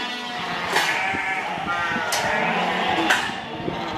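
Ewes bleat on a sheep farm at lambing and weaning time, several loud calls breaking out at intervals close by, with a person talking between them.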